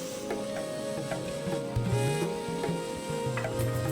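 Finely chopped onion frying with gram flour in a pan for Amritsari paneer bhurji, a steady close sizzle with scraping and stirring clicks from the spatula running throughout, no voices.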